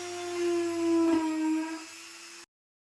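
A fine 0.8mm drill bores into a model spruce tree trunk with a steady, thin whine that holds for a couple of seconds before stopping abruptly.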